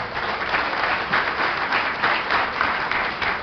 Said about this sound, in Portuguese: então aplauda Jesus Cristo.